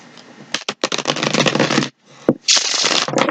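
Cosmic Tarot cards shuffled close up, loud papery riffles and cascading card slaps in bursts separated by brief pauses and a sharp tap, bright and crisp.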